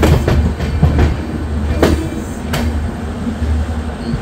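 A 13126 Sairang–Kolkata Express train pulls into Guwahati station platform at night, with a steady rumbling rail hum, a few rhythmic clanks early on and sharp metallic clicks near the end.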